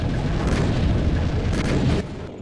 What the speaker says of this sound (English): the tanks in this game sound mean